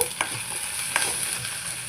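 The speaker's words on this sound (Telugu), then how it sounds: "బాగా కలుపుకోవాలి, మంచి స్మెల్ వస్తూ ఉంటుంది" Ginger garlic paste is stirred as it fries in a pan, with a steady close sizzle broken by a few soft spatula scrapes.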